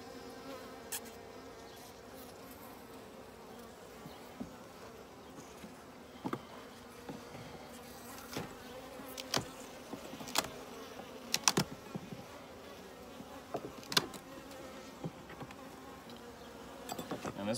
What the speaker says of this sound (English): And this is wall-to-wall bees.